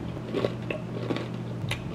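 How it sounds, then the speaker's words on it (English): Crackers are bitten and crunched close to the mic. A few sharp, crisp crunches come at irregular intervals over quiet chewing, with no talking. "This is my first time trying these crackers."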